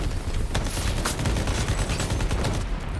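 Rapid gunfire in a first-person shooter video game, dense overlapping shots and bursts crackling continuously at close range, loud and alone.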